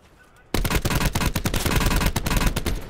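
Rapid automatic gunfire in a Call of Duty match, a dense burst of loud, closely spaced shots that cuts in abruptly after a brief quiet moment and continues without pause.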